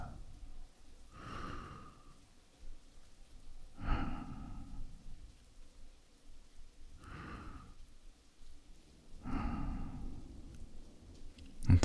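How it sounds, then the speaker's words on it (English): A man breathes slowly and softly, close to the microphone, in a calming whispered hypnosis sleep aid. Four long, evenly spaced breaths rise and fall against a faint hiss, with no talking. "Listen to the sound of my breath."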